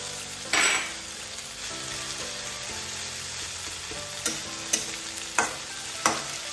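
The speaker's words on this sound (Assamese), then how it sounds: "কচু লতিখিনি ভজা মই প্ৰায় 6-7 মিনিটমান হ'ল একদম ল' ফ্লেমত ভাজি আছোঁ" A steady, soft sizzle of taro stems frying in a pan on low flame, with a few sharp clinks of a utensil stirring toward the end. No one speaks.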